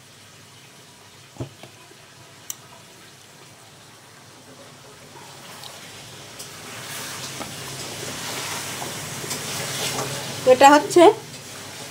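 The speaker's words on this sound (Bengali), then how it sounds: "এই যে দেখো মাংসটা কষানো হচ্ছে" Meat braises in a pan on a home stove, a soft hiss of sizzling that grows louder over several seconds, with a few words spoken and some clattering near the end.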